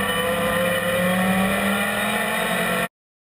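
A race car circling the Bugatti circuit at Le Mans, its engine holding a steady loud drone with a rising tone, close and continuous before cutting off abruptly.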